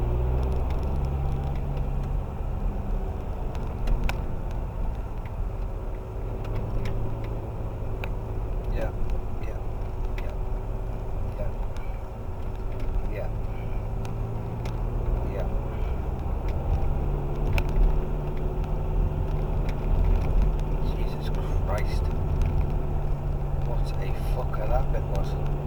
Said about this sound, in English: Strong car engine for this.